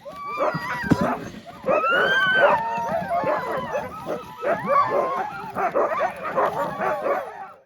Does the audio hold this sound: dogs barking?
yes